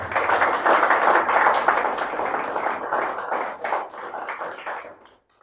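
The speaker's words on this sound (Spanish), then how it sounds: "Dele palmas al Señor, iglesia" A church congregation clapping for the Lord, dense sustained applause-like claps that thin out into scattered individual claps and fade to near silence at the end.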